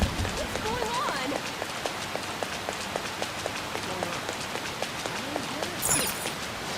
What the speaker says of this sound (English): This rain is intense.